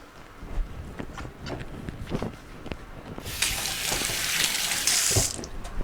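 Tap water runs into a kitchen sink while cabbage is rinsed, starting as a steady rushing spray partway through after some light handling clatter.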